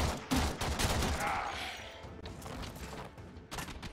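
Bursts of gunfire ring out while shooting enemies in the video game Warframe, rapid clustered shots in the first half fading to quieter scattered fire.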